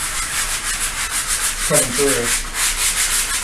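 Steady rasping sandpaper strokes scrub across a painted faux brick wall tinted with orange terracotta, loud and close in a continuous back-and-forth rhythm, with a brief voice speaking partway through.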